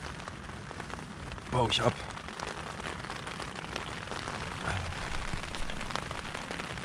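Steady rain pattering on an emergency shelter in the woods, a dense continuous hiss throughout with someone speaking briefly in German near the middle.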